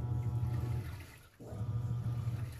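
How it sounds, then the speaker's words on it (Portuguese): Laundry churns in a washing machine that splashes water out its sides, a continuous low watery rumble broken by a short pause midway, heard close and without voices. "Vai chacoalhando e jogando água."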